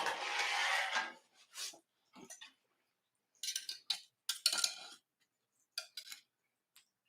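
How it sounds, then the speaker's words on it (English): A knife scraping and tapping around a calzone to loosen it from a cast iron pan, giving short scratchy scrapes and clicks separated by silence, close and fairly quiet. "I'm going to try loosening it with a knife first."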